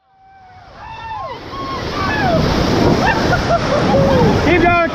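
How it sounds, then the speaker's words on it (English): A tall ocean wave collapses into the water with a heavy, building roar of churning surf that stays loud to the end, while high voices shout and call out over it. "The wave stood tall like a wall, then collapsed in seconds, sending a white storm of water everywhere."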